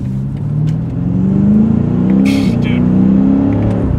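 A BMW M5 CS engine pulls hard under acceleration with a steady, rising drone heard from inside the car, while an occupant speaks briefly over it.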